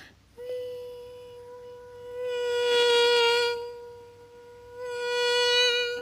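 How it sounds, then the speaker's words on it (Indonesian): A thin, high-pitched mosquito whine hums steadily close to the ear, swelling louder twice as it drifts nearer, with no voices. "Lalu kenapa nyamuk sangat berisik di telinga?"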